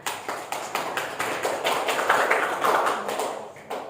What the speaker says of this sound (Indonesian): Tepuk tangan untuk Mbak Dela dan Mbak Arina